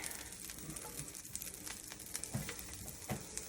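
Soft, steady sizzle of butter frying in a hot pan for lemon pepper broccoli chicken, faint crackling with a few brief pops and stirring sounds.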